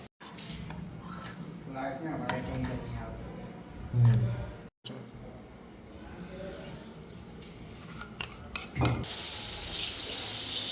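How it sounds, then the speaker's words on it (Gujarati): Paneer fries in a pan with a continuous sizzle, joined by occasional clinks and scrapes of a utensil stirring against metal. "પનીર ફ્રાય કરવાનું છે અત્યારે આપણે"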